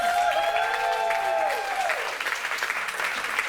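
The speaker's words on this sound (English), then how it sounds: "Can you all do a big round of applause for the star of the show every year" An audience at a fringe theatre show applauds performer Brandon Roberts, a dense wash of clapping with a few tonal whoops or cheers early on, steady and fairly loud.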